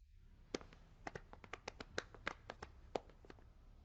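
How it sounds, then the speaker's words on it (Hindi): Quick, irregular hand claps from a small group, crisp and close, scattered over a few seconds with no talking. "सब ताली बजाओ।"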